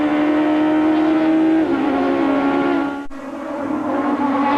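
Open-wheel Toyota Atlantic race cars at the Toronto street race, engines screaming loud and close at high revs, pitch sliding down through a gearshift before climbing again, with no talk.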